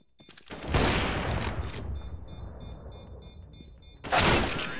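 Burst of gunfire from a first-person shooter match on the Azteca map, a loud volley up front that trails off into a decaying rumble, then another loud blast near the end.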